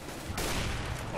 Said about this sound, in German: Oh, schöner Schuss.